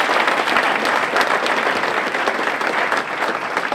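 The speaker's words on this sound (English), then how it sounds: "Give her another round of applause, all right?" Audience applauding loudly at a motivational speaking event, dense steady clapping filling the room throughout with no gaps.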